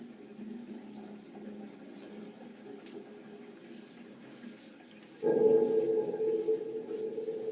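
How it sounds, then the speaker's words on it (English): Water runs and gurgles down a bathroom sink drain, a quiet trickle at first that turns suddenly louder and fuller partway through, then keeps draining steadily and close by. "excuse me, I just need to drain the sink"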